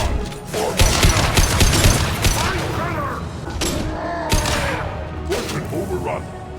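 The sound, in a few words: gunfire in a battle, from video game Mass Effect 2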